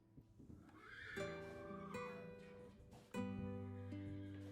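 A horse in the video game Love & Fool's Gold whinnies twice in quick succession, loud and near, each call sliding and wavering with no talk over it.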